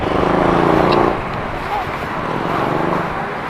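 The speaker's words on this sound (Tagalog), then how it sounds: "stop muna tayo at may sasakyan na mabilis" A fast car or motorcycle roars past close by on a road, loud at first and then fading into a lower steady rumble of traffic.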